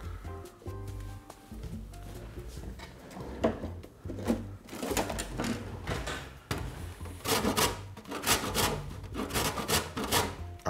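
Lemon peel is rasped against a grater in repeated rough, rhythmic strokes, fairly loud and close, with scraping bursts that grow denser toward the end.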